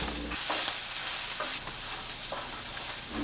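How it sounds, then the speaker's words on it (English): Onions cooking slowly in a pan to caramelize, giving a steady close sizzle with soft stirring scrapes throughout and no talking. "it slowly cooks the onions, which gives all the sugars and the onions enough time to break down and caramelize"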